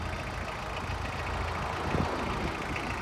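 A Mitsubishi MT-245 mini tractor's four-cylinder diesel engine idles close by with a steady, rough low rumble and faint knock, unbroken for a few seconds, with no talking.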